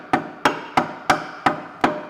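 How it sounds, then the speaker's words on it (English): A rubber hammer taps a lift kit part into place on a 1997-2001 Honda CR-V, six evenly spaced, fairly loud knocks close by with no talk. "you actually use a rubber hammer. Just tap it past that little spot."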